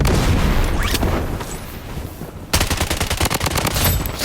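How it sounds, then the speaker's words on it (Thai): Grenade blast and gunfire in the shooter video game Bloodstrike: a dull rumbling boom fades out, then rapid, evenly spaced automatic gunshots crack loudly close by. "เอาระเบิดไปแดก ตุ้ม"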